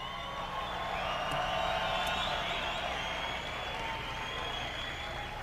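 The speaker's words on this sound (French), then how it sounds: "Une bonne main d'applaudissements pour Georges Saint-Pierre" A large crowd at a TKO 19 mixed martial arts event applauds and cheers for Georges St-Pierre, a broad, steady roar of clapping and voices that holds at constant loudness for several seconds.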